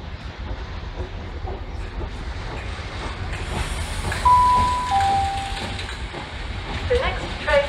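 A train pulls in on the main line at a UK station, led by a Class 97 locomotive, a steady rumble and hiss with brief tonal squeals and a chime, people talking nearby.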